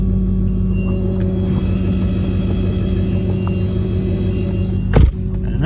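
A car being towed out of a tight parking spot between side-by-side cars gives a steady low rumble and engine drone, with a sharp knock or scrape near the end, and no talking.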